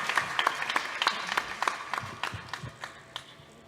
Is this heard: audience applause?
yes